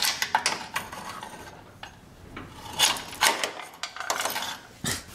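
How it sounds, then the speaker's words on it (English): Metal tools clink and scrape while a stuck bolt is worked loose during restoration of an abandoned 1956 Chevy, making irregular close, sharp knocks and rattles with brief pauses in between. "This dang bolt just does not want to come out."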